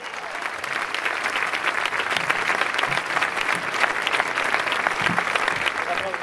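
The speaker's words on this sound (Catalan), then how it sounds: "Un aplaudiment per tots ells" Sustained crowd applause at a Reus recognition event honouring people who defended a polling school during the 1 October referendum, a dense, steady clapping that holds at full strength from start to finish with no talk over it.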